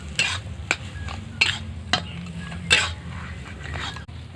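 A spoon stirs spiced potato filling for roll samosas in a pan, coriander powder and garam masala just added, giving several separate scraping strokes over a soft sizzle, close and moderately loud.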